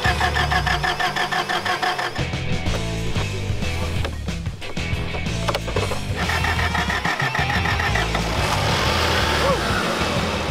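A 4x4 with starting trouble cranks and sputters, engine turning over unevenly and catching rough, mixed with clatter while people talk over it.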